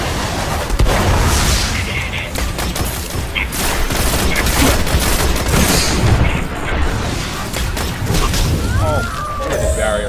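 A grenade blast and rapid gunfire in the video game Destiny, a dense, loud barrage of shots and booms running continuously throughout.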